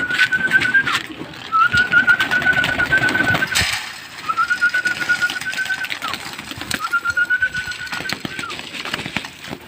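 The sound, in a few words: pigeons cooing while being fed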